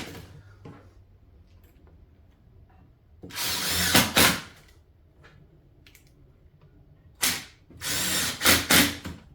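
A power drill drives decking screws into wood in two short bursts, each a loud whirring grind lasting about a second, separated by quiet pauses with faint handling clicks.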